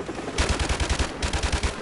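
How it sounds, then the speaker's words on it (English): Assault rifle fire in Call of Duty Modern Warfare comes as two quick, loud automatic bursts with punchy, evenly spaced shots and a short gap between them. "This assault rifle sucks."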